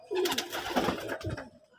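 Fancy pigeons coo nearby in a short, rolling run of throaty, warbling notes that fades out at the end.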